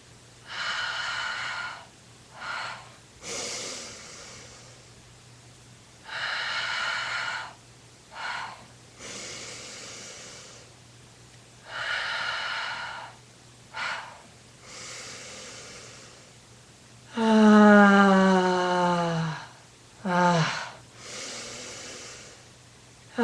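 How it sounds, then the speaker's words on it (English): Five slow, deep breaths taken while seated, each long airy inhale and exhale rising and fading in turn, close up. Near the end comes a louder, voiced, sighing exhale, with no talking over the breathing. "5 deep breaths."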